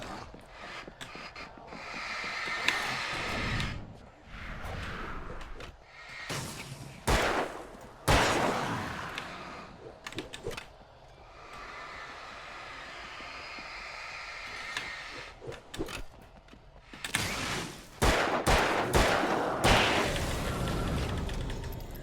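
Gunfire in the video game Alan Wake: repeated loud sharp gun blasts in clusters, some with ringing tails, spread across a tense stretch of game sound with no talk.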